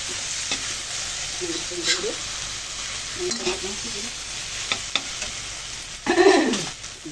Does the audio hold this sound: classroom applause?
no